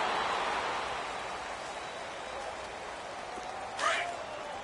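Steady rain hisses across a stadium in an American football video game, a broad constant wash of falling water with a brief brighter swell near the end.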